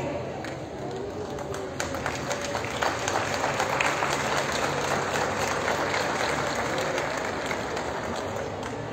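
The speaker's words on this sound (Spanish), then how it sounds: "Fuerte el aplauso, por favor" An audience at a Mexican state government event for handing out eyeglasses and assistive devices to school students applauds steadily for the whole stretch, a dense even patter of many hands, with a faint voice beneath.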